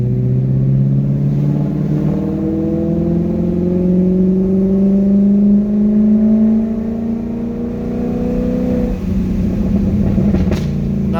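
BMW 540i E39 V8 engine revs up smoothly under light throttle, a deep, close, steady bellow that climbs gradually in pitch and then eases back, with no speech.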